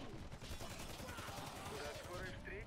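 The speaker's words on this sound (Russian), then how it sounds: "Давай эксперимент, со скольки выстрелов тела я тебя убью с глушаком." Rapid suppressed gunfire rattles in the Warface video game during a player-versus-player fight, a dense continuous burst of muffled shots at a low, even level.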